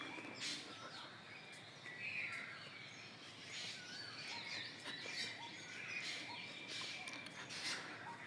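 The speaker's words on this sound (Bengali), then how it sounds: "দেখেন অনেক পাখির ডাক শোনা যাচ্ছে" Several birds chirp and call in a quiet village morning, faint and somewhat distant, with scattered tweets over a soft background hum.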